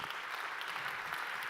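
An audience at an awards ceremony at the Grand Rex applauds a winner, a dense, steady burst of clapping from a large crowd, filling the whole short stretch without a break.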